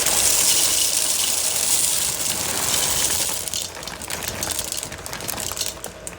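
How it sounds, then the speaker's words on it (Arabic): Dry pasta, two kinds, tipped into a pot with cooked meat: a loud rushing, rattling pour for about three seconds, then lighter scattered clicks and patters as pieces settle. "هننزل بالمكرونة"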